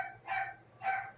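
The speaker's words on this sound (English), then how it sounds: "Ignore all the crazy chihuahua barking. Apparently my dogs have gone insane." Chihuahuas bark in two sharp bursts, about half a second apart, fairly close and moderately loud, with no talk over them.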